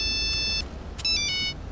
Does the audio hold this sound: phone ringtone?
yes